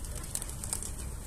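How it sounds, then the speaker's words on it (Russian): Town pigeons coo softly near a park pond in autumn while a man and a child feed them, a few low murmuring calls over steady outdoor background noise. "Мужчина с ребенком кормит голубей."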